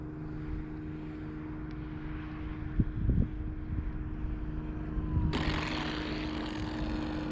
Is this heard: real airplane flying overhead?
yes